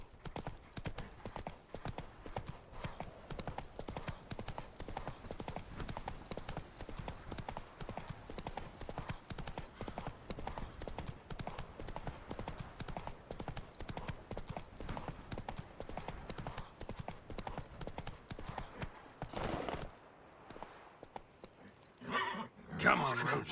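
Roach, a horse in The Witcher 3: Wild Hunt, gallops with steady rapid hoof clip-clop for about twenty seconds, loud and continuous, then the hoofbeats break off into quieter movement; a rider's voice speaks over the gallop.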